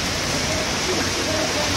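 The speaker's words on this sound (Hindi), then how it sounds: "बारिश देखो यार, भयंकर ही हो गई, बहुत भयंकर" Heavy rain pours down in a dense, continuous roar that holds steady throughout.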